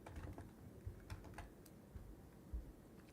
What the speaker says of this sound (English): Just because I was hearing the keyboard.